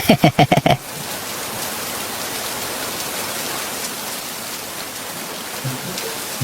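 Steady rain falling, a dense even hiss throughout, after a quick burst of short clattering sounds at the very start.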